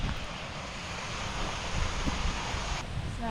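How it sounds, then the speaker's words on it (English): Waterfall in a forest in the Lake District, heard as a steady, dense rushing roar of falling water that holds level and fills the whole clip, with no voices over it. "So a nice viewpoint here of the waterfall."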